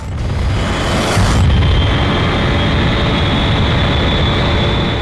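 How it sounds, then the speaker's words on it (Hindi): A missile launches in a TV crime drama with a loud, sustained roaring rush that swells early and then holds as a steady heavy rumble, with no talk. "अभी एक मिसाइल यहाँ से फायर किया गया है"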